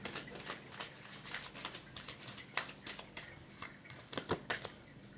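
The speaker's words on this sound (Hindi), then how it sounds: "One last time will shuffle." Tarot cards are shuffled close by in quiet, quick riffling bursts, with soft papery snaps repeating unevenly for several seconds.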